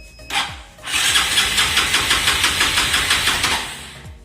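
A motorcycle with electric self-start only, no kick, started after sitting about a month: a short starter whir, then the engine catches and runs with a rapid, rough pulsing beat, close and loud, with no talk.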